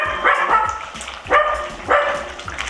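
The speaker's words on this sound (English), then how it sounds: "barking at the birds" A dog barks three times in short, spaced bursts, fairly close, with some light background noise between barks.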